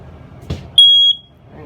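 A smoke detector in a 2022 Forest River Tracer 22RBS travel trailer gives one short, loud, high-pitched electronic beep, lasting about a third of a second, after a soft click.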